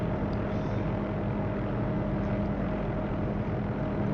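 OH-6A helicopter in a flight simulator game, a steady droning rotor and engine hum with a constant tonal whine, unchanging and continuous throughout.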